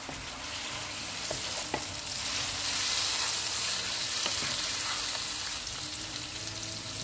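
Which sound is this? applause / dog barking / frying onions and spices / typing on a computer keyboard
frying onions and spices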